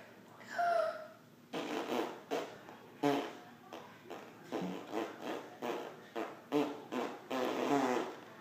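A child blows a string of wet, buzzing fart noises, a voice imitating the sound in repeated sputtering bursts with short pauses between, close and fairly loud.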